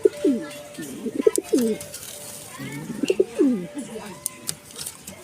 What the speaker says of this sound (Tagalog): ito yung ating Taiwan bird